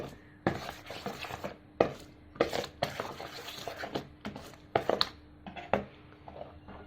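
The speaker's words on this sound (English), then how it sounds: "just crush the black pepper. So you should crush like this." Black pepper for urad dal dosa is crushed by hand, a series of close, sharp pounding knocks at an irregular pace with gritty scraping between them.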